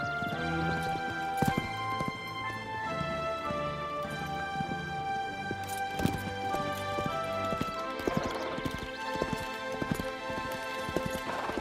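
Horse hooves clip-clop steadily under a busy musical score, with an occasional whinny and a brief voice in the mix.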